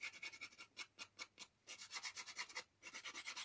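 Scissor blades scraped against a sheet of paper to give it an aged look for a handmade lace book, a close, dry rasping in quick repeated strokes grouped into short bursts with brief pauses.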